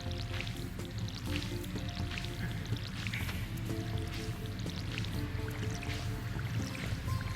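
Watering crops with a watering can in Stardew Valley: soft, quiet splashing and dripping pours recurring steadily over a low ambient bed.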